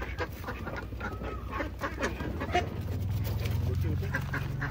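Country ducks kept by a household quack intermittently nearby while people talk, the calls partly mixed under the voices and a low droning hum.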